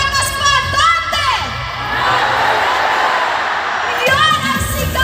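A large political rally crowd at the Philippine Arena shouts and cheers loudly in waves, with whoops and high voices, and a voice on the public address speaks over the start and end.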